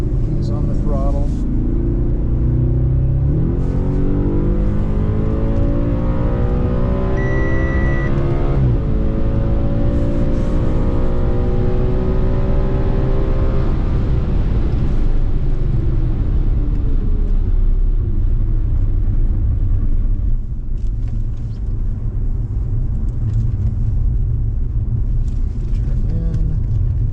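A car engine roars on a track day at an Audi Quattrofest circuit session, its revs climbing as the driver squeezes the throttle out of turn 12. It sounds loud and close from inside the car, and a person talks over it.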